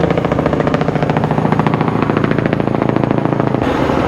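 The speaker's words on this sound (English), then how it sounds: "that's a helicopter interfering with our coverage." A helicopter's rotor thumps in a fast, steady rhythm, loud and close overhead, with engine roar filling the background and no voices.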